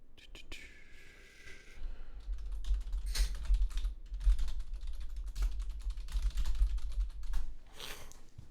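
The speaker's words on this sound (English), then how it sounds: "I'm going to type something to you quickly." Quick typing on a computer keyboard, a dense run of soft clicking keystrokes over a low hum, with some louder taps and faint voice-like murmuring in the background.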